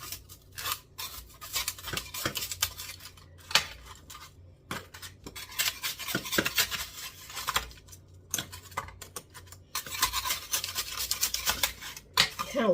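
A knife scraping freeze-dried banana brittle off a Harvest Right freeze dryer tray, bursts of dry rasping and scratching strokes with short pauses between, close and fairly quiet.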